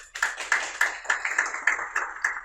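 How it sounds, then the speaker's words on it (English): A small audience at a product launch ceremony for a liquid detergent plant gives a sparse, rhythmic round of clapping, a few hands beating in near-regular time, fairly close and moderately loud. "Another round of applause to MD Glerian Limited"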